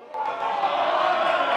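Darts crowd at the Super Series roaring and chanting as teenage player Luke Littler conducts them, a loud sustained wall of massed voices that swells and holds.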